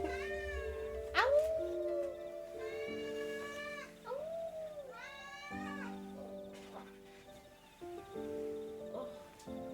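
A pet cat named Maisie meows several times indoors, drawn-out and up close, with rustling between the calls, over a low background hum.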